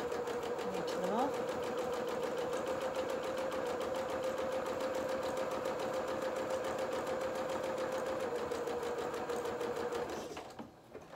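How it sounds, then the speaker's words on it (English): A sewing machine zigzag stitches along fabric edges for doll culottes, a steady, close, rapid mechanical whirr that runs continuously for about ten seconds and then stops, with talking underneath. "let's just zigzag down these edges just to"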